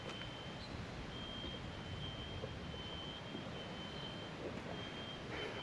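A faint, high-pitched electronic smoke alarm beep repeats steadily at a distance in hurricane-damaged surroundings, beneath a constant rushing background noise.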